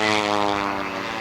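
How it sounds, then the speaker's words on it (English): Propeller aerobatic airplanes fly at the 1990 Stardust Air Show at Cherry Capital Airport in Traverse City, Michigan, a loud, steady buzzing engine drone with rich harmonics, sustained and close throughout. "We will be looking to the airplane on our right that's actually flying the left wing."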